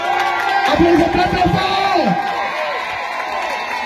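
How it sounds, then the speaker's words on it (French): A crowd at a political speech in Guinea cheering and applauding, a loud dense roar with whoops and shouts, while a voice speaks over it. "Applaudissements."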